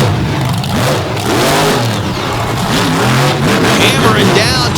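A Ford race car with an Oldsmobile on the back hammers down hard at a crush car event, its mid-pitched engine revving loud and close under an excited announcer's commentary.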